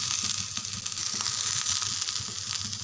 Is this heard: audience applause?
no